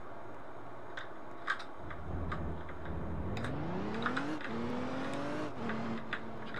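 A car driven in Roblox, its engine idling low and then revving up in rising pitch sweeps through several gear-like climbs, steady and close with occasional faint clicks.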